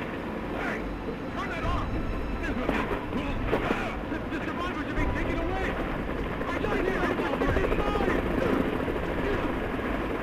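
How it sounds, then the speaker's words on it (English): A helicopter in the video game Final Fantasy VII Rebirth gives a steady, dense rotor and engine drone throughout, with game voices and other sounds over it. "We are exfilling via helo now."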